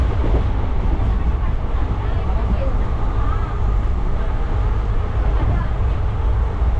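Train travelling toward Tirupati, a steady loud rumble and roar of the moving carriage filling the whole stretch, with people talking over it.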